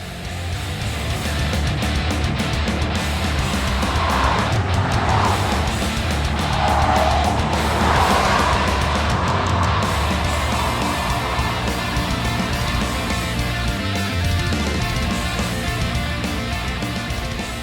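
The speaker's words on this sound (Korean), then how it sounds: "지금부터 닛산 무라노와 함께 달려보겠습니다" A Nissan Murano Hybrid with a CVT transmission drives along, giving a steady, fairly loud wash of road and engine noise throughout, with no talking.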